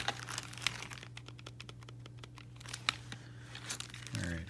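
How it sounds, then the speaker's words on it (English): Buttons on a Sega Genesis Mini controller click repeatedly in sharp, irregular taps against a steady low hum, close and fairly quiet. "Button clicks are louder."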